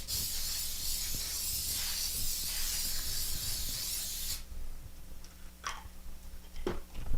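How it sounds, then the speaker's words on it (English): Pam cooking spray with flour hisses steadily from the can onto a springform pan for about four seconds, then cuts off, leaving a few faint clicks and kitchen handling sounds. "I'm going to spray it with the Pam spray with flour"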